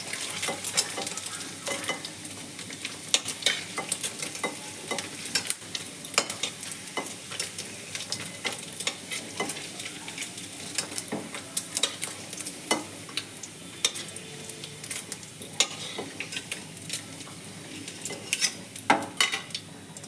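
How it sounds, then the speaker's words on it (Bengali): Paneer cubes fry in a pan with a steady sizzle, punctuated by frequent clinks and scrapes of a spatula stirring against the metal. "দেখুন আমার পনিরগুলো ভাজা হয়ে গেছে, এখন তুলে নেব।"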